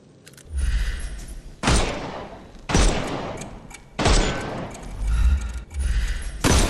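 Gunshots in Sherlock Holmes Chapter One, five loud, sharp reports spaced about a second apart, each trailing into a brief echoing decay.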